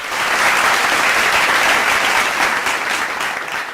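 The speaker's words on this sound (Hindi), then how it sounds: "तालियां, क्योंकि देखिए तालियों की आवाज बहुत कम आ रही है।" Steady applause from a large crowd at an outdoor election carnival event in Shimla, loud and continuous across the whole stretch with no talk over it.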